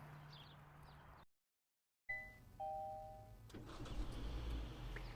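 A 2017 Kia Sportage fires up by remote starter: a short chime, a brief pause, then the engine cranks and settles into a steady idle, close by with no talk.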